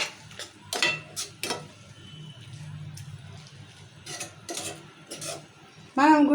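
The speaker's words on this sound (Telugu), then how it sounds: "గుడ్లు పోయంగానే కలుపుకోవాలి కలుపుకుంటే మెదడులాగా అవుతుంది" Eggs just poured into a pan for egg curry are stirred with a utensil, making intermittent scraping and clinking strokes close by, and a voice speaks briefly at the end.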